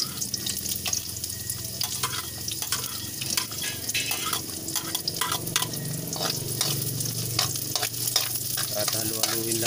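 Garlic and onion frying in a pan, a bright continuous sizzle with repeated sharp stirring scrapes and clacks of a utensil, close up and without talk.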